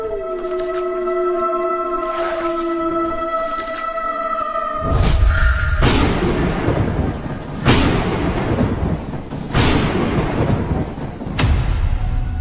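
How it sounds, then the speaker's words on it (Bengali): Soft music plays, then gives way to several loud, rumbling thunder cracks that boom out every couple of seconds. "দেখো কিভাবে বাজ পড়ছে, মনে হয় এক্ষুনি বৃষ্টি হবে।"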